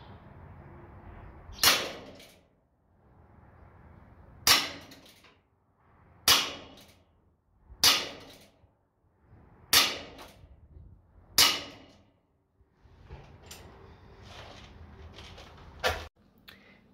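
Colt Peacemaker CO2 air pistol firing seven sharp, loud cracks spaced a couple of seconds apart, each with a quick decaying tail, quiet handling noise between shots.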